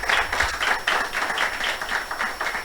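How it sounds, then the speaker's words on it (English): A room of book-launch attendees gives a short round of applause. The clapping is dense and even, with no talk over it. "we can give him a hand of applause for that"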